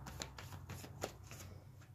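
Tarot cards are shuffled and drawn in a quick run of close, soft riffling and flicking sounds with no talking.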